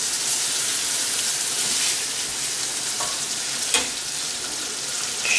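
Food fries and browns in a hot pan while cooking fettuccine Alfredo, giving a loud, continuous sizzling hiss with a sharp crackle partway through.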